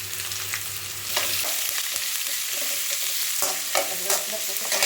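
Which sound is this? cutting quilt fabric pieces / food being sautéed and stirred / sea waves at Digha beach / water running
food being sautéed and stirred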